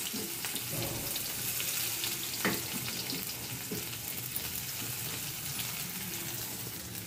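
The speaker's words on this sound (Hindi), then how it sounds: "प्याज हल्का गोल्डन होने तक फ्राई करेंगे दोस्तों" Onions fry in oil with cumin seeds, a steady, moderately close sizzle and crackle with occasional stirring scrapes, with no voices over it.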